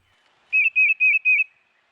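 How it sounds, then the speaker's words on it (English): A tufted titmouse whistles a clear, close song of four evenly spaced, identical two-part notes in quick succession against silence. "It is a very clear whistled series of 4 to 8 notes that sound like Peter, Peter, Peter, often repeated over and over."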